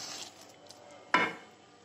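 A spoon stirs carrot laddu mixture with desi ghee in a pan, making faint soft scraping, then one sharp metallic clink against the pan and a brief rustle fading away.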